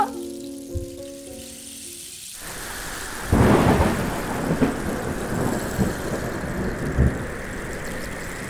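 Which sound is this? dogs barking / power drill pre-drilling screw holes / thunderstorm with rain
thunderstorm with rain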